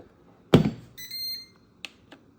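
An air fryer timer goes off with a short electronic beeping tone after a loud thunk, followed by a couple of faint clicks in a quiet kitchen.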